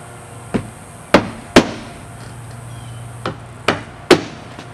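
Hammer driving nails into asphalt roof shingles: six sharp, loud strikes at irregular intervals over steady low outdoor background noise, with no talk.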